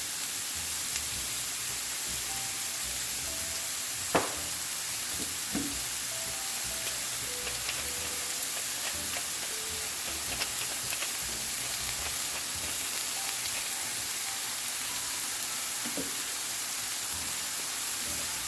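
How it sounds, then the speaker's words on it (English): Creamy red wine mushroom sauce sizzles steadily in a pan, a constant bright hiss with a few faint clicks of a spoon stirring. "Give it a stir."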